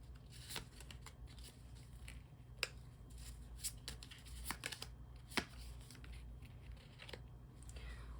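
Tarot cards are shuffled and drawn, soft papery riffles and sharp snaps scattered through a quiet room, close and faint, with no talking.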